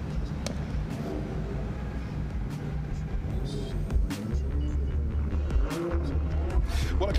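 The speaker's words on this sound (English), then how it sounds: "They're warming those fronts up, just taking that top layer off the rear tyres." Drift cars on a track warm their tyres before a run, engines revving and droning with tyre squeal and whoosh, while a commentator talks over the noise.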